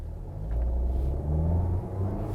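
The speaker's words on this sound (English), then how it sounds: "So this 2-litre engine, as mentioned, is peppy and quite competitive for its segment." A Mahindra XUV700 SUV with a 2-litre engine accelerates; a steady, close, low engine rumble swells after the first half-second and holds strong, with no voices.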